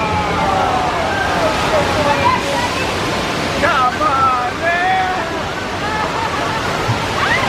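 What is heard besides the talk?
rushing water special effect on the Universal Studios tour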